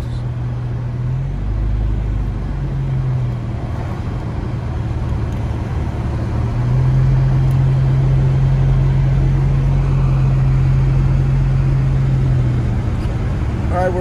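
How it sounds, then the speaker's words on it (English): A big truck drives past on snowy Highway 38, the North Shore road near Fawnskin in Big Bear, its low engine rumble steady and close, swelling midway as it nears, with near-freezing winter storm conditions. "Look at this big old truck."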